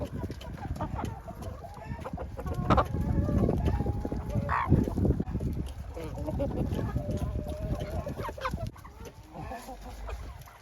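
Hens cluck and honk-like squawks rise from a poultry yard where turkeys are also kept, a busy close chorus of overlapping clucks and calls over a steady rustling background for the whole stretch.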